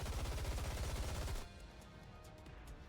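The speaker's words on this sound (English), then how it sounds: "Gunfire, unmistakably Snow White's, erupts from behind" Rapid, loud bursts of automatic gunfire in the game Goddess of Victory: Nikke rattle for about a second and a half, then cut off, leaving a quieter, hissing background with scattered faint clicks.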